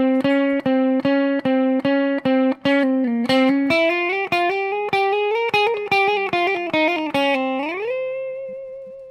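Electric guitar picking a single-note line, loud and clean with steady repeated plucks that climb in pitch, ending on a long bent, sustained note.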